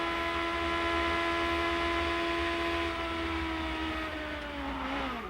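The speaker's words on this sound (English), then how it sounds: "Listen to the throttle when he goes through top gear." A 2004 IndyCar engine at Homestead-Miami Speedway holds a loud, steady high-pitched whine on throttle through top gear, the pitch sagging slightly near the end, with no talk.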